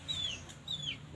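A young wild jungle fowl, freshly caught, gives two thin descending chirping calls, faint and close, against quiet outdoor background noise.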